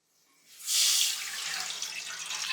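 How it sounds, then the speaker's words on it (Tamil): Milk poured into a hot pan for rose milk, a steady bright splashing hiss that starts abruptly, peaks loud and close, then settles into a continuous pour with no talk. "நம்ம இந்த ஸ்டேஜ்ல பாலை சேர்த்துக்குவோம்."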